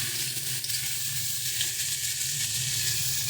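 Dried fish and flat beans fry in a pan with a steady, loud, close sizzle and no voices over it.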